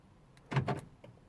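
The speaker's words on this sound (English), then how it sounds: "the central locking, the doors lock and straight away they unlock again" Porsche Boxster S 986 central door locking with a fault, actuators clunking to lock and then immediately unlocking: two quick mechanical thunks close together, followed by a fainter click.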